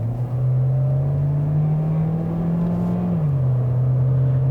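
A 2018 Chevrolet Equinox with its 1.5-liter turbocharged four-cylinder engine accelerates, a steady loud drone climbing slightly in pitch before dropping back after a brief shift, heard alone with no talk.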